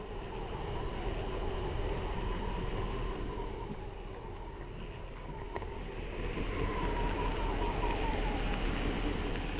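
A train rumbles steadily across a bridge over Lake Lefroy near Deadwood, a continuous low rolling drone with a faint tonal whine above it, even and sustained throughout with no voices.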